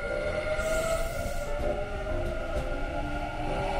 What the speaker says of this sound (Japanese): 電報駅で下車して乗車してきた尼崎駅の普通電車を見送ります